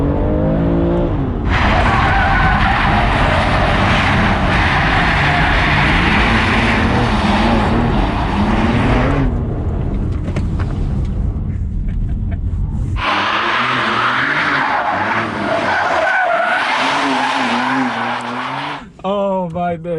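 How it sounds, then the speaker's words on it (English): A BMW M2 Competition drifts with its engine roaring loudly nearby and its tires squealing in long bursts. The engine note rises and falls across the run, and an excited voice shouts over it. "Drifting! Who will be drifting? We will be drifting!"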